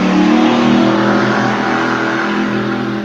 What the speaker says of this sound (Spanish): ¿Escucharon esa moto que pasó?